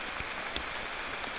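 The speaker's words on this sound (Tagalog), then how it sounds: "sinabutan kami ng ulan" Rain falls steadily in a rainforest during outdoor cooking of a Filipino dish. It is a soft, continuous hiss with occasional nearby drips, faint and even throughout.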